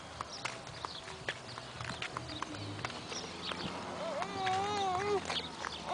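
A horse's hooves clop in a steady, soft, fairly close rhythm, with a faint whinny-like wavering call near the end and quiet household background.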